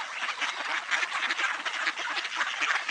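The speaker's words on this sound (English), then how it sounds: "There's some more ducks walking on the ice." Ducks quacking continuously on a frozen pond, a dense overlapping chorus of nasal calls at moderate distance, with no voices.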